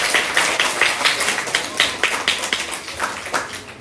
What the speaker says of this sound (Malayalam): അപ്പൊ ഈ മോൾക്ക് ഒരു കൈയടി കൂടി കൊടുത്തേ